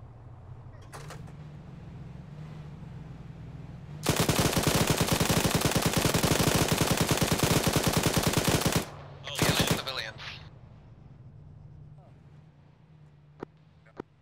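Sustained automatic fire from BTR vehicle guns in a military video game rattles in a loud, rapid burst lasting several seconds, followed by a shorter second burst and some faint clicks.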